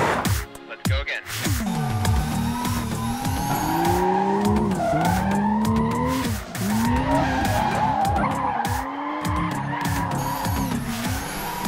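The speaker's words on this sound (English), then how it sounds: "the hardest aspect of controlling a car is when it's drifting" An autonomous Toyota Research Institute car drifts, its tires squealing in repeated rising and falling screeches over a revving engine, loud and close, sustained across the whole stretch.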